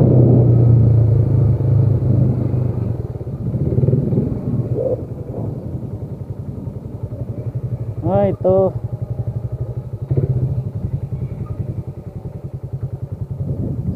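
Motorcycles on a road near Minalungao National Park in Nueva Ecija rumble steadily as engines idle and rev, loud at first then settling, with people talking over the engine noise and a brief horn-like tone midway.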